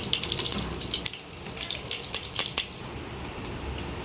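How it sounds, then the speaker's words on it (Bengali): Cumin, a cinnamon stick, two cloves and a bay leaf sizzling in hot oil, a fairly quiet hissing crackle with scattered pops that eases off toward the end, no voices. "আছে জিরে, গোটা গরম মশলা একটা দারচিনি, 2টো লবঙ্গ আর তেজপাতা তেলের পরে দিয়ে দিই।"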